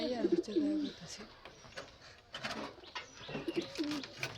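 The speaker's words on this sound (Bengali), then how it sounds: "এই যে এই কবুতরটা দেখেন" A pigeon cooing nearby in a small home collection of birds, two bursts of soft rolling coos at the start and again near the end, with some background noise between.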